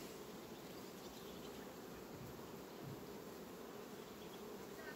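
Honey bees at a calm colony hive, a dense continuous buzzing hum with no voices.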